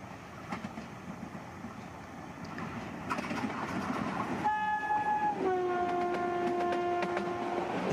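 A meter gauge Indian train hauled by a YDM diesel locomotive rumbles past, the engine growing louder before two long, steady horn blasts sound close by over the rolling clatter of the wagons.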